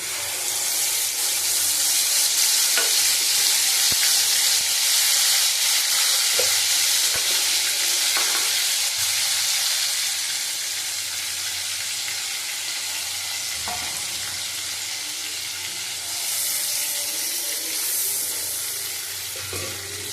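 Tomato paste with a pinch of salt sizzles steadily in a pan over lowered heat, a broad hiss with occasional scraping clicks of stirring, close and continuous with no talking.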